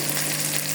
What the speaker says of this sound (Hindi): फ्राई पैन में ना ऑयल डाल के ये करेले फ्राई करेंगे। इन्हें बहुत क्रिस्पी बना देंगे